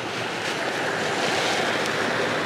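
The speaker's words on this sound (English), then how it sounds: "There's flowing water down there." Water flows through underground tunnels with a steady, loud, hissing rush that never lets up, and no voices can be heard over it.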